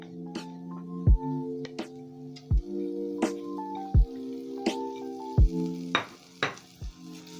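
Chopped white onion going into hot cooking oil, a soft sizzle under repeated spatula knocks and scrapes against the pan, with a tonal hum running beneath.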